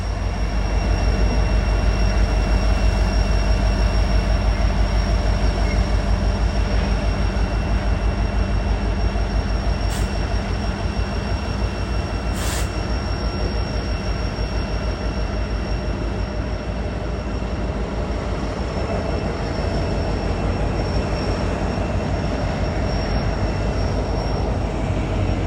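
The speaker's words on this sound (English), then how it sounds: "Their only concern is about getting these locomotives back to the yard and back in service." Norfolk Southern freight locomotives and their cars roll past on the rails near Atlanta, making a loud, continuous low rumble with steady wheel clatter throughout and a brief faint squeal.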